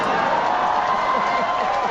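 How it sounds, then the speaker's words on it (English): Audience cheering and wooing, a dense continuous roar of crowd voices, loud and steady throughout. "people are cheering this nonsense"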